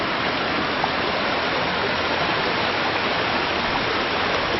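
Waterfall at the edge of a rural property where twin creeks meet, a steady, dense rushing roar of falling water, loud and close with no pauses.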